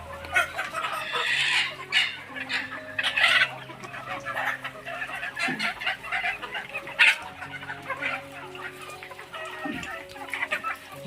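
Village chickens on a poultry farm cluck and chatter constantly, with overlapping bird calls close by and a rooster crowing somewhere in the flock.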